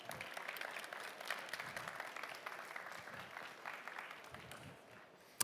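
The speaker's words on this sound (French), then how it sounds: "Je vous demande d'abord d'accueillir Alain Dufoux, président du SNPI, sous vos applaudissements" An audience at a French real-estate innovation conference applauds to welcome the SNPI president onstage, a sustained wash of clapping that slowly thins and fades over a few seconds, ending with one sharp isolated clap.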